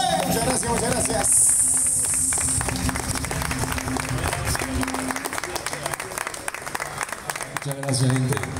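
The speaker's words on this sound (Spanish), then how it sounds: "No los veo, pero puedo sentir sus aplausos" An audience at a poetry recital in a Ponce cultural centre applauds, a loud, dense wash of clapping that swells briefly and then carries on without letting up.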